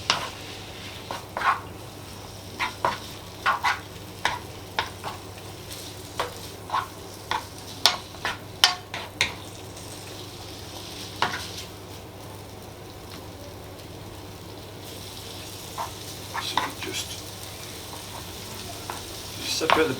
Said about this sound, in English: Separate the bacon now. And as the bacon starts to warm up, it separates itself.